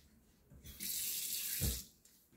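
A kitchen tap runs for about a second while hands are washed under it, a steady rushing stream that starts abruptly, swells, then tapers off, with quiet room tone on either side and no talking.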